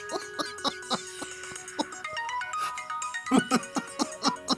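A phone ringtone plays a bright repeating electronic melody in regular pulses, clear and fairly close, with no talk over it.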